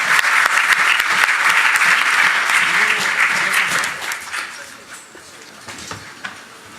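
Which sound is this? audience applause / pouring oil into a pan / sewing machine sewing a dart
audience applause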